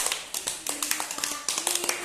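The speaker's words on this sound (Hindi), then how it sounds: "तो चलिए अपने लिए ताली बजा दीजिए सभी लोग" Children in a classroom clapping for themselves, a short burst of quick, uneven hand claps close by, with a faint tone sounding under them.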